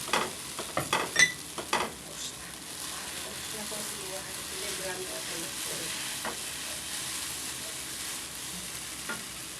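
Noodles being stirred in a hot pan, opening with several sharp utensil clatters and scrapes, then settling into a continuous low sizzle with occasional soft taps.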